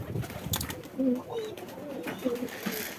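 Pet pigeons coo softly in low, rolling bursts near a loft at feeding time, with faint background noise between the calls.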